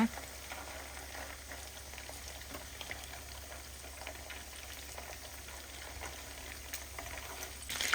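Chunks of pork with black pepper fry in hot oil, a steady close bubbling sizzle like light rain that continues evenly throughout with a brief clatter at the end.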